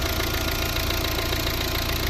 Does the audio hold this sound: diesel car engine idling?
yes